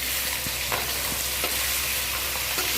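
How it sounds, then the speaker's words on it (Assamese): Loud, constant sizzling of fish heads frying in hot oil, with occasional scraping stirs and pops, close up and without speech. "মাছৰ মাথাখিনি ভাজি লৈছোঁ।"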